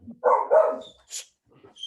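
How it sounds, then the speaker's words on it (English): A dog barks twice close by in quick succession, then a brief high yip and scattered faint yelps, outdoors in Argentina. "There's always an annoying dog anywhere in the world."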